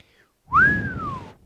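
A single whistled note slides up, then holds and gently falls away, clear and close, over a faint low rumble.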